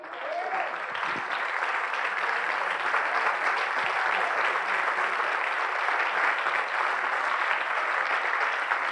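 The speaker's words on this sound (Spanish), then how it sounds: "Y si quiere, denle un aplauso al Señor" A church congregation claps in sustained, even applause that fills the room from start to finish, loud and continuous, with no speech over it.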